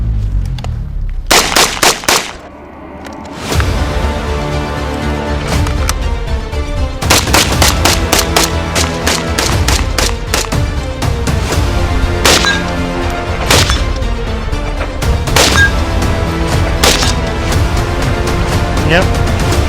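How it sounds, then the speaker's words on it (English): Loud close rifle shots from a Rhodesian FN FAL (R-1) battle rifle fired in a timed Mozambique drill, sharp cracks in quick bursts with gaps, ringing outdoors across the range, with some talking. "a Mozambique, 5 shots."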